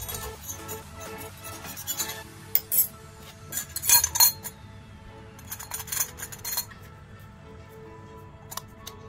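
Metal clinks and scrapes from a steel sev press mould being handled and oiled in a home kitchen, scattered irregular clatters and taps, louder in a few clustered bursts, with no talking.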